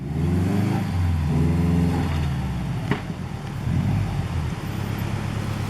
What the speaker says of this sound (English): This is that exhaust.